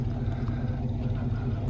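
An old engine that has sat unused for a long time idles after being refueled. It smokes heavily and gives a steady, low, rumbling drone with an uneven throb, close and alone without talk.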